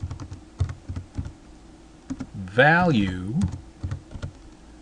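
Computer keyboard typing C++ code, rapid clusters of close, crisp key clicks continuing under someone speaking.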